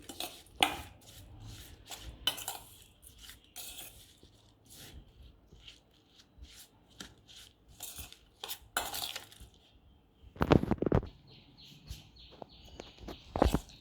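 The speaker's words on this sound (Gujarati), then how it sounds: "ગોળ એકદમ મિક્સ કરી દેવાનું, બધું સામગ્રી." Thepla dough ingredients, jaggery and curd with flour, being mixed in a bowl, with scattered clinks and scrapes of a utensil against the dish and a louder burst of clattering near the end.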